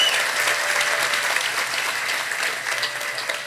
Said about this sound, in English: Can I have a round of applause for them, please?